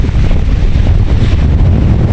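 Strong wind by the sea buffets the microphone in a steady, loud, low roar, with rough surf churning underneath and no voices.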